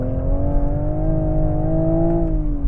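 Toyota Supra powering up the Bryant Park hillclimb track, its engine a loud, close, continuous drone that climbs gently in pitch as it accelerates, with no voices.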